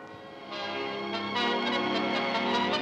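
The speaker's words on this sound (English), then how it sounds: "Big Ben, to be correct, is the hour bell" Big Ben, the 13.5-ton hour bell cast in 1859 and hung at Westminster in London, rings out loud and close, its deep tone swelling and layered with lingering overtones, with no talk over it.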